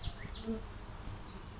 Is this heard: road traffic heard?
no